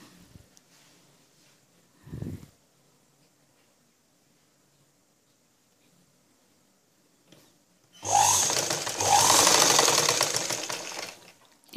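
A sewing machine stitches blouse fabric in a long, loud continuous run near the end, after mostly quiet handling and a brief thump earlier.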